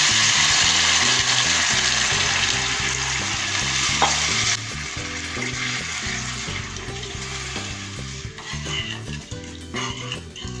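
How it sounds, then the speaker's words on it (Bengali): Water goes into frying masala with potatoes for a mud crab curry, giving loud steady sizzling and stirring that drops off sharply partway through as the pan cools, leaving softer bubbling with background music. "এবার এতে দিয়ে দেবো আন্দাজ মতো জল।"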